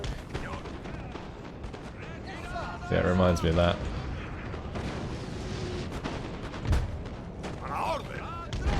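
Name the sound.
cannon artillery fire in Napoleon: Total War video game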